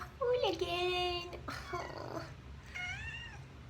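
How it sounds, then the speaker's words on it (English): A house cat meows close by, a long drawn-out cry followed by a rougher growling call and a shorter meow, in a quiet indoor room. "my cat is in here already being a hooligan"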